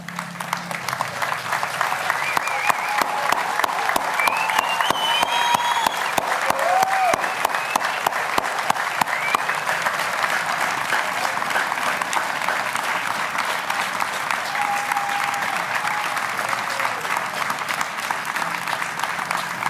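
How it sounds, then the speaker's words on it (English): Sustained applause from a large crowd at a Memorial Day ceremony in Rancho Cordova, honoring standing veterans, a steady dense clapping roar that holds at even loudness throughout without fading. "I hope you hear that applause and the thanks for the liberty and the freedoms that we have here in America."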